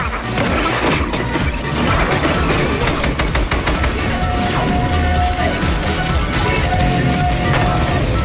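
Rapid gunfire bursts and crashing impacts from a Fortnite match, dense and loud throughout with a few electronic tones, with players' voices faint in the mix.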